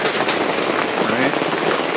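Torrential rain drums steadily on a tiny camper, a dense close patter that never lets up and has no talk over it.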